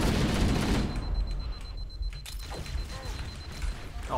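Needle gun from Halo: Combat Evolved firing in a game firefight, a loud burst of crackling, splintery rapid shots at the start that thin into scattered sharper pops and hissing over a steady low rumble.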